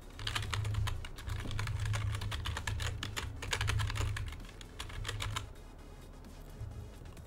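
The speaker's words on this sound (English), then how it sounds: "you can type in the email of the person you want to add" An email address being typed on a computer keyboard: rapid, evenly spaced keystrokes close to the microphone over a steady low hum, stopping about a second before the end.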